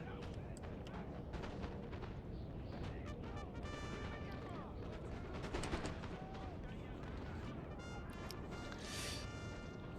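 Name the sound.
musket gunfire in Napoleon Total War video game battle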